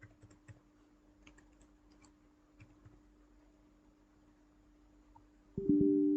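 Fingers tap a computer keyboard in a quiet room, entering a username and password as a run of soft, uneven key clicks, followed by a brief louder tone near the end.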